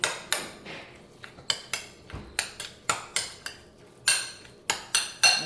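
Salmon ball mixture mixed in a bowl with a utensil, a run of sharp clinks and scrapes against the bowl in an uneven rhythm, close up and with no talk.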